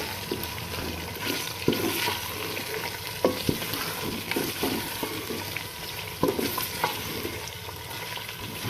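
Steady sizzling of garlic, ginger and green chilli paste frying in a karahi pan for chicken karahi, with occasional clinks and scrapes of a spoon against the metal.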